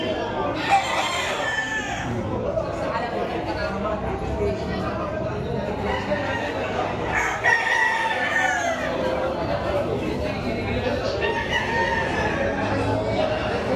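A pure golden boy sweater gamecock crows and clucks among other fowl while people chat nearby throughout.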